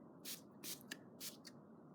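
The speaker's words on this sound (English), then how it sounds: "I'm going to spray using my liquid watercolor." Four or five quick hissing spritzes of liquid watercolor from a spray bottle, evenly spaced, close and crisp against a quiet background.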